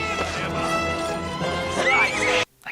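An evil eyeless horse from The Return of Jafar animated film gives a loud, sustained neigh with a rising whinny near the end, over music and clip-clop hooves, then cuts off abruptly.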